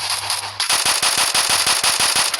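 Rapid gunfire cracks in a battle royale video game, a loud, fast run of sharp shots in steady rhythm after a brief, quieter opening.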